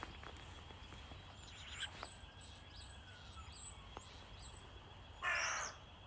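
Starlings calling outdoors, a run of faint, thin chattering whistles and squeaks at a distance over a steady background hiss, ending in a slightly louder burst of calls.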